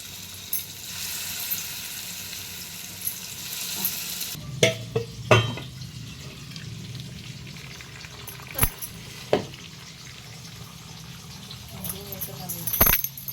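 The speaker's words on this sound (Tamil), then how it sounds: "இப்போ நான் முட்டை பொரியல் பண்ணின்னு இருக்கேன்." Soft sizzle of an egg frying in a pan with occasional clinks of a utensil against the pan, under quiet background voices.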